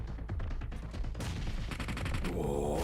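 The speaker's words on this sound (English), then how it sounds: "The Tracer showing you it whizzing right on by. The bullets, though, are hitting." Gunfire in the mobile battle-royale game PUBG Mobile during a championship match: a rapid burst of closely spaced shots, then a louder sustained stretch of firing and a final blast, all fairly near.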